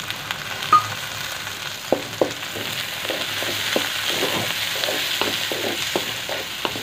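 Chopped onion and fresh green peas frying in oil in a pan: a continuous moderate sizzle with regular spatula taps and scrapes against the pan, heard alone and fairly close.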